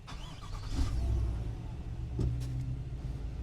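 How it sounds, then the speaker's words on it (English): A Chevrolet vehicle is started with the brake pressed: the engine cranks and catches around the two-second mark, then settles into a steady, close idle rumble. "You're going to step on the brake as usual and start your vehicle."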